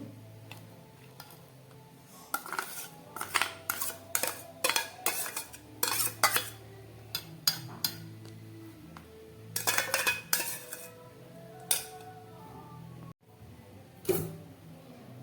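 Pieces of katla fish are set into a tiffin bowl lined with banana leaf, giving a scattered run of close, crisp clinks and knocks of metal and utensils at an uneven pace, with no talking.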